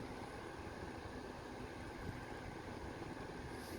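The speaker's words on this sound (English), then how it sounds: "it is definitely powerful as it is blowing out quite a lot of wind on low" A Wexford box fan running on its low setting, giving a steady, even whoosh of moving air with no change in level from start to finish.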